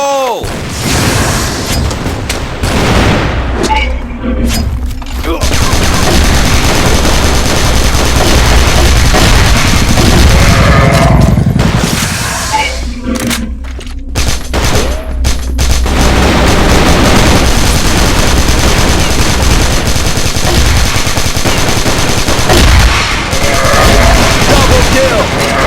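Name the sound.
KAC ChainSAW machine gun fire in Crossfire video game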